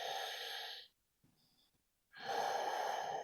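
Slow, deep yoga breaths in a calm floor session: a long airy exhale, a quiet pause, then another full breath, close and alone with no talking.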